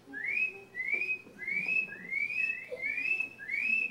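Several rising whistled chirps repeat in a steady series, a person's whistle imitating a spring peeper frog's high peeping call, clear over faint background murmur.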